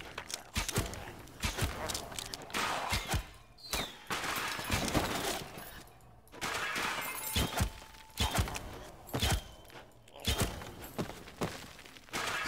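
Rapid gunshots and impact bursts from the action video game The Slormancer, arriving in dense, irregular clusters with short pauses, fairly quiet overall and with no speech.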